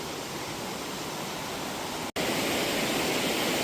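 A stream flows near a hidden temple in Erumeli, giving a steady, loud rushing wash of water with one brief cut partway through, no voices.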